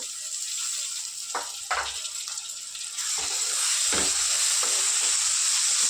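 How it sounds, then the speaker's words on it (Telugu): Chopped tomatoes sizzling in hot oil with salt and turmeric in a pan, a steady frying hiss broken by several scraping stirs of a spoon, with no talk. "టమాటా కూడా బాగా మెత్తగా అయిపోయే వరకు ఉడికించుకున్నాను."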